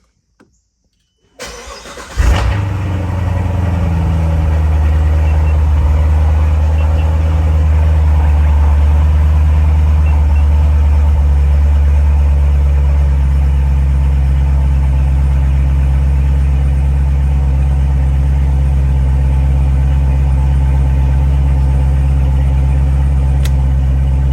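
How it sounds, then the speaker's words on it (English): A Chevrolet Corvette C7/C8 engine cranks and fires up in a garage after a brief silence, then settles into a loud, steady, deep idle that continues for over twenty seconds. "now we're gonna start the engine"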